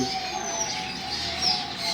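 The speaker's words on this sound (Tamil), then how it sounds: "இந்த குருவிகளுடைய ஓசை கேட்டாலே நம்முடைய மனதுக்கு ஒரு இதமாகவும்" Sparrows chirp continuously, a busy flock of overlapping tweets close by in a park at Yelagiri, with no talking.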